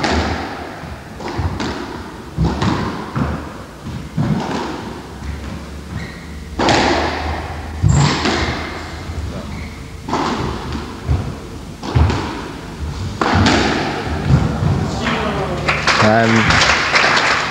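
Squash ball shots in a 1981 semi-final rally, a string of sharp thuds and knocks at uneven pace off walls and racquet, ringing in a reverberant court under steady crowd murmur and commentary.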